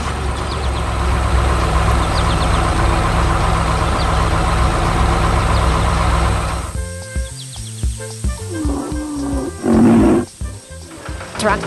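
A cartoon tractor hauls a trailer loaded with fresh crops: a loud, steady engine idle rumbles for about six seconds and then cuts off, giving way to scattered bouncy cartoon effects and a short, loud burst.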